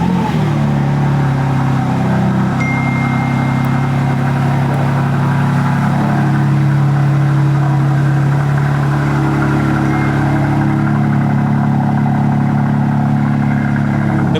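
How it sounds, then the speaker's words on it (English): A BMW M2's engine idles steadily at close range, a low, even mechanical hum that holds without any voices over it. "Let's get the whip started."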